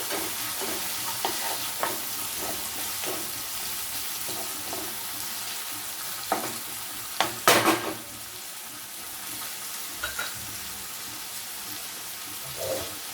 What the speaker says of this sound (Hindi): टमाटो प्याज भल भाव भाजी हो।